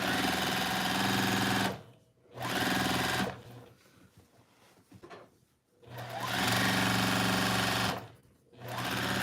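A Juki sewing machine stitches a quilt seam in loud, sustained runs, stopping briefly twice between bursts, with softer handling noise during the pause.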